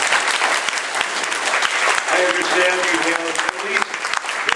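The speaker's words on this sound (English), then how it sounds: "Please, a big round of applause." An audience at a mayoral debate in Parkrose breaks into a dense, steady round of applause, with speech heard over the clapping.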